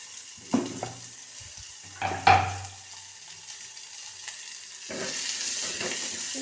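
Onions frying in oil in a pan, a soft sizzle under a few sharp clatters of a spoon stirring against the pan, with the hiss swelling toward the end.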